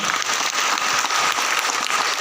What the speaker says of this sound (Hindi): मैं चाहूंगा एक बार सबके लिए तालियां हो जाए